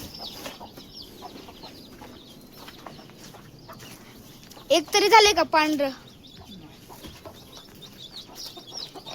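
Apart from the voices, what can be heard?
hen with black chicks clucking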